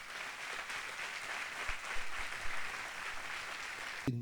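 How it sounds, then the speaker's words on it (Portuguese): A church congregation claps in sustained, even applause for the Lord, heard at a moderate distance with a few louder thumps near the end. "Vamos aplaudir o Senhor Jesus."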